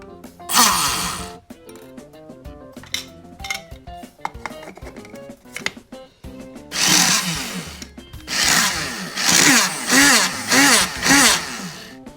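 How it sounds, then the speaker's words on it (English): A Krups F203 electric spice and coffee grinder runs in several loud, whining bursts of a few seconds each, separated by clicks and handling clatter. "Finally, let's test the grinder."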